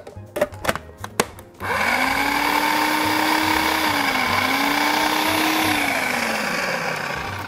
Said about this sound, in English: in the food processor, because there's not a whole lot of stuff in there, you have to kind of scrape the sides so you don't end up with big pieces. And pulse it again.